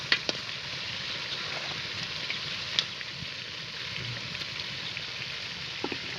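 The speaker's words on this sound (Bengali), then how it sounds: "এখন মাংস দিয়ে দিবে, মাংস দিয়ে তারপর ভালোভাবে কষিয়ে নিবে।" Meat sizzling and frying with spices in a pan in a village kitchen, a steady hissing crackle with occasional sharper pops and clinks, close and continuous.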